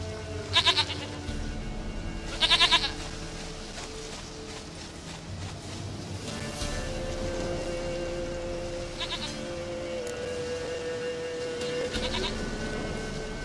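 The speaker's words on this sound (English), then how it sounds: "Goat of mine, dearest, sweetest goat." Goat bleats from The Witcher 3 come in two clear, close bursts early on, followed by fainter bleats, over a bed of ambient game sound and rain-like hiss.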